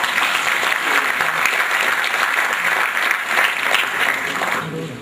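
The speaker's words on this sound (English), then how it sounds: "Request a round of applause for all the panelists" Sustained audience applause for the panelists after a panel discussion, a steady dense wash of clapping held for several seconds before tapering off at the end.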